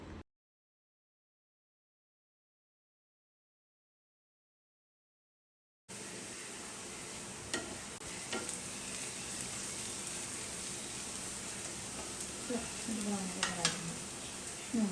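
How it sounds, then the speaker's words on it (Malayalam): Chopped onions with salt sauté in a pan, a steady soft sizzle that begins after about six seconds of silence, with a few clinks and scrapes of stirring near the end. "സവാള ഇട്ട് കൊടുത്തിട്ട് ആവശ്യത്തിന് ഉപ്പും കൂടെ ചേർത്തിട്ട് നന്നായിട്ട് അതിൻ്റെ കളർ മാറുന്നത് വരെയും, സവാളേൻ്റെ ഒരു ബ്രൗൺ കളർ ആവുന്നത് വരെ ഒന്ന് നമുക്ക് വഴറ്റി കൊടുക്കാം."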